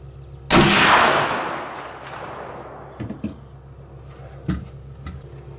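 A single loud, close rifle shot from an 1876 Winchester lever gun chambered in 45 Colt, fired through a chronograph outdoors, with a long decaying echo and a few faint clicks of the lever afterward.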